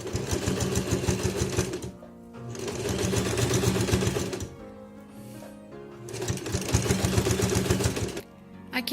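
A sewing machine stitches two layers of ribbon together in three loud, rapid bursts of close mechanical chatter, separated by short pauses.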